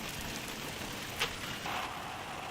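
Steady rain falls on an outdoor building site, a continuous close hiss of drops on wet ground and surfaces, with one brief sharper tick partway through and no voices.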